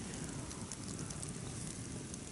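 A ritual bonfire burning, a continuous close crackling and rushing roar of flames with small pops throughout and no pauses.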